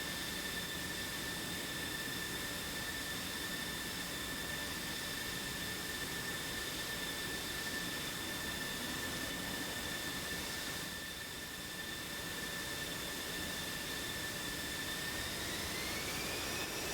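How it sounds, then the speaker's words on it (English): Jet aircraft spool up for takeoff in the DCS flight simulator game, a steady, fairly faint engine roar with a high whine that rises in pitch toward the end, with no voices. "Here comes PTF now with the takeoff, one by one."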